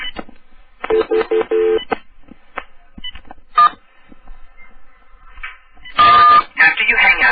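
Telephone keypad buttons pressed in short bursts, several quick tones in a row, then a louder tone cluster near the end, with a phone menu voice speaking in between.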